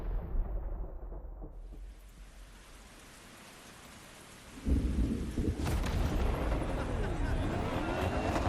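A thunderstorm rages while driving in The Crew Motorfest racing game: steady rain hisses, then a loud, deep roll of thunder breaks in about halfway and rumbles on heavily beneath the downpour.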